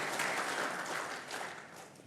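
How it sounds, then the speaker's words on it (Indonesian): Audience applause for panelists and a moderator at a forum, a fairly faint, even patter of many hands clapping that eases off slightly toward the end. "Tepuk tangan sekali lagi untuk para panelis dan moderator."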